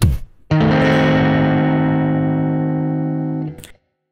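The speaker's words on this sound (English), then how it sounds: "Here's another dark sounding chord, the diminished 7th chord." A distorted electric guitar strikes a single diminished 7th chord, which rings out loud and sustained for about three seconds before being cut off, after a short scrape of the strings.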